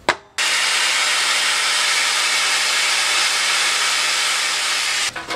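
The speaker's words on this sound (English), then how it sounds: "I was just using the sander to even up the lines and stuff" A power sander evening up lines on metal during a sword build, a steady loud hissing whir running continuously for about five seconds after a sharp start, then cutting off.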